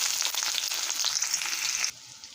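Chopped onion hits hot oil in a kadai with panch phoron, a loud, bright sizzle that crackles steadily before dropping sharply to a faint hiss near the end.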